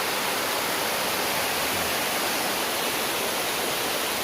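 Fast-flowing stream water outdoors in nature, a steady, loud, broadband rush of current with no pauses and no voices.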